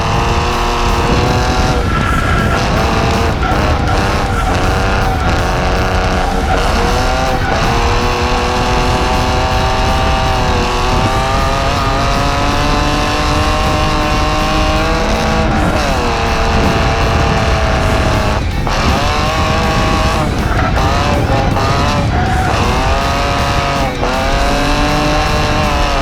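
A BMW E46 drifts sideways at full lock around the Streets of Willow road course, its engine screaming loud and close with continuous rising and falling revs while tires squeal in long smeared bursts, unbroken for the whole stretch.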